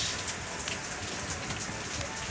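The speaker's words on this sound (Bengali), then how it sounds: "আকাশের পরিস্থিতি ভালো না থাকার কারণে বাইরে প্রচণ্ড বৃষ্টি হচ্ছে" Heavy rain pouring down outside a small shop late at night, a dense, loud and unbroken hiss of drops drumming on surfaces without any pause or speech.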